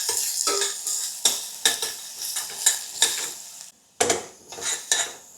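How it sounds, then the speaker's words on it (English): Onion fries gently over low heat in a pan, a soft continuous sizzle broken by a series of sharp scraping stirs of the utensil against the pan, close and fairly loud, no talking. "Now add the onion. Turn down to low heat, fry a little while."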